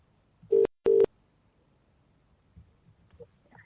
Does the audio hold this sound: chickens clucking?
no